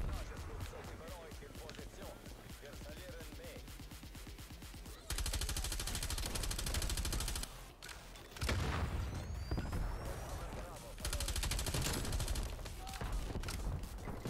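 Video game battle gunfire: rapid automatic bursts crackle in dense rhythmic runs, with louder sustained volleys and booms alternating with quieter stretches, and a voice comes through beneath the shooting.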